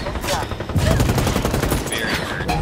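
Sustained bursts of automatic gunfire in the Ghost Recon tactical shooter game, loud and continuous with overlapping shots, while players' voices talk over the combat.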